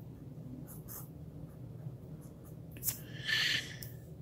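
An Eversharp Skyline fountain pen with a fine nib scratches across paper in short, faint strokes, ending in a slightly louder scribbling burst, close and with no one talking.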